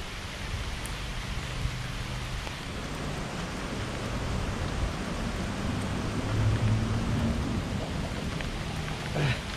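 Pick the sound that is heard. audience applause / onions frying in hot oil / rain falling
rain falling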